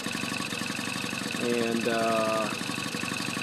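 A Honda Express NC50 moped running after an engine swap, a steady rapid putter with a brief rise in revs midway, close and fairly loud, with a voice briefly heard.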